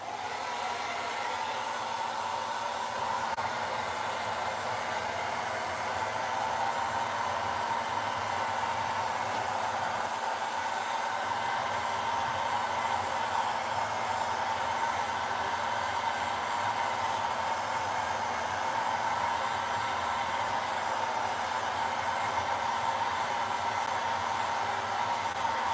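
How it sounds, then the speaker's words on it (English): Heat gun blowing hot air during wood turning, a steady even rushing hiss held at constant level throughout, with no talk. "Get the heat gun,"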